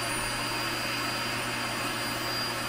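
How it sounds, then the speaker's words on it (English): A built-in floor vacuum in a camper runs with a steady, loud whooshing roar and a constant motor hum. No one speaks. "There's a handy dandy vacuum, floor vacuum."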